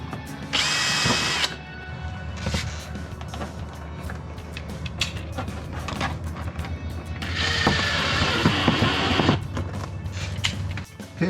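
A small pilot drill bit bores pilot holes for LED light fittings and a power port inside a camper, in two loud whirring bursts with quieter handling clicks and scraping between them.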